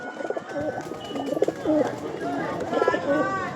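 Pigeons at the Dankuni market coo close by, with repeated rolling, throaty coos from several birds overlapping in quick succession.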